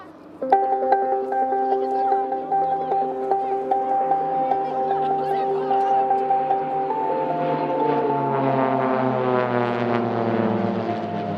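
Pilatus PC-7 propeller aircraft of the Swiss Air Force PC-7 Team pass overhead at an airshow, a loud droning engine tone that rises, then bends downward in pitch as the planes sweep by.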